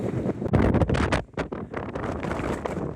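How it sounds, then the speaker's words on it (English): Strong gusting wind buffets the microphone in steady, roaring blasts, loud and close, with brief dips between gusts and no voices. "Still very windy on the top."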